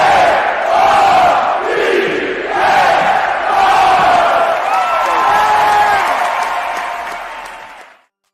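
A basketball arena crowd roars and cheers continuously at a college game between Tennessee and Louisville, with loud swelling waves of whoops and shouts that rise and fall across the whole stretch before cutting off abruptly.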